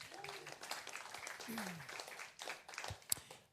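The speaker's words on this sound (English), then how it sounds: "Give him a round of applause." An audience claps for a speaker at a panel discussion on Appalachian music recordings, a moderate ragged applause under and between a speaking voice.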